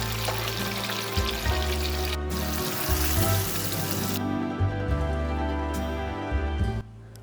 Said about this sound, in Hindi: तो इसीलिए हम थोड़े से फ्लेम पे इसे हल्का सा फ्राई कर लेंगे